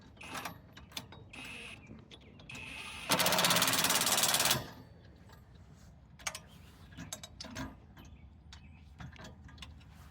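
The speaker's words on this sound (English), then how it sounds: "We'll run that down with a little impact and then secure it." An impact wrench runs down 13 mm bolts on a Bad Boy Rambler trailer hitch in one loud, steady burst of about a second and a half, set between quieter tool clicks and handling noises.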